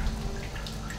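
Water drips and trickles from a bucket pulled up in Amnesia: The Dark Descent, a brief, close splashing sound.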